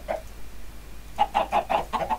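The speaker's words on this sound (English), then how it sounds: "as you can see, the chickens are right there" Chickens cluck in a Minecraft world, one short call followed after a pause by a quick, close run of rhythmic clucks, loud and alone.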